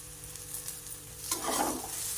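Potato bhaji stirred and fried in a kadhai: a soft sizzle runs underneath, then a louder scraping stir swells near the end, close and quiet.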